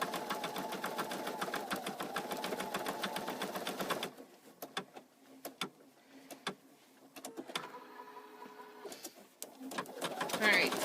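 An embroidery machine stitching the bottom piece of a floppy-eared bunny stuffie gives a loud, rapid, steady buzz for about four seconds, then stops, leaving faint ticks and softly cooing pigeons in the background.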